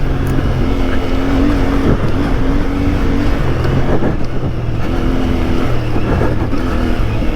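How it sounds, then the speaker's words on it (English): A CFMoto 450MT 450cc adventure motorcycle drones steadily while riding, its engine note rising and falling slightly with throttle changes, loud and continuous throughout with wind noise and no talk. "We've got a 450cc, quite capable adventure bike."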